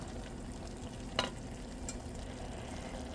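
A spoon stirs an onion mixture in a hot pan for a vegetarian soup, a low steady sizzle with a couple of brief scraping clinks against the pan, close and fairly quiet, with no talking.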